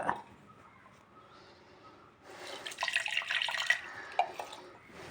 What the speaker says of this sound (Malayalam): അതിൻ്റെ കൂടെ പുളിയും കൂടി ഒഴിക്കുക